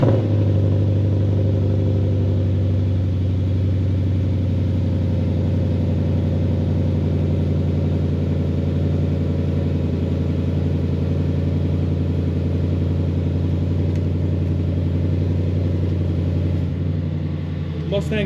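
A Ford Mustang with an X-pipe exhaust rumbles loudly and steadily at close range, a deep raspy idle holding throughout with little change in pitch.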